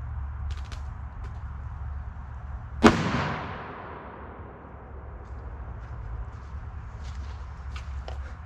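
A single sharp, loud explosive bang from a 3-gram TPA flash powder firework salute, with a rumbling echo that fades over a couple of seconds against steady outdoor background noise.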